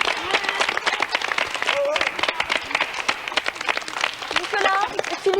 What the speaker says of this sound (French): Bravo, je crois qu'on peut l'applaudir.